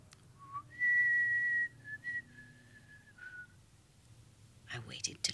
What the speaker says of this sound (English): He started to whistle.